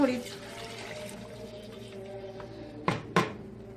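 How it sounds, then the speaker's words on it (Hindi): Chicken yakhni stock being poured into a pot of browned chicken for white pulao, a soft steady liquid pour, followed by two sharp clinks near the end. "इसमें मैं ये यखनी ऐड करूंगी।"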